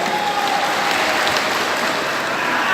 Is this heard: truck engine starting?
no